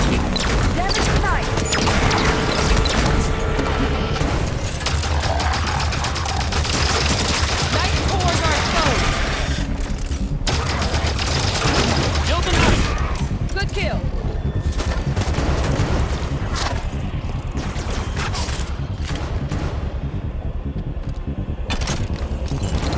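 Rapid gunfire bursts and weapon fire in the Halo 5 Guardians campaign, loud and dense, with rumbling explosions and game effects layered throughout, continuous combat noise up close.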